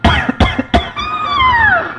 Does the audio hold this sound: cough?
yes